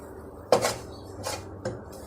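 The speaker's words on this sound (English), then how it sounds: "And you just stir it." A spoon scrapes and knocks against a pot while stirring a mixture seasoned with ajinomoto and pepper for stuffed grape leaves, giving three separate close clinks spaced about a second apart with no voices.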